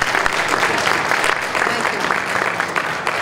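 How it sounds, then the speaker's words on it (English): Warm, full applause from a nursing graduation audience, heavy continuous clapping with some crowd voices mixed in underneath. "Let's give a round of applause for the Dean of the Nursing School."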